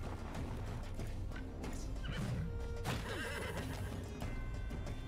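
A horse whinnies in the turn-based game Wartales, the neigh rising over steady clip-clop hooves and a dense background of game ambience and music.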